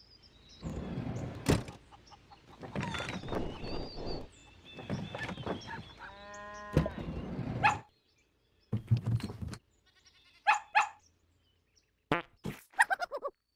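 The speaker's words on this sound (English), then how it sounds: "Dog." A video game dog barks in a few short, sharp bursts after a stretch of rougher noises, the barks separated by pauses and fairly close.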